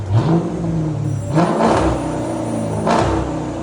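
A Dodge Challenger R/T with a 5.7L HEMI V8 and straight-pipe exhaust, revved hard three times, loud and close, each rev rising to a roaring peak before dropping back to a rumbling idle.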